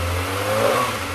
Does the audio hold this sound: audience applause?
no